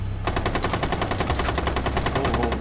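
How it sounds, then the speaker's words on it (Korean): Rapid automatic gunfire in Rainbow Six Siege rattles in a steady, continuous stream of evenly spaced shots, loud and close, with a low rumble underneath. "총소리"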